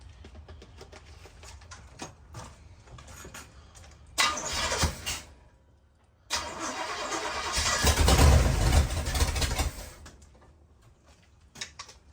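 Old converted bus engine cranking and firing up: bursts of starter churning, a pause, then the engine catching and revving loud and rough before settling to a fast idle.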